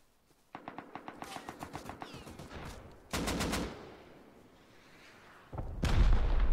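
A rapid burst of automatic gunfire in the survival game Rust rattles out evenly, then a louder sharp burst follows, and a heavy boom closes it, with no talking.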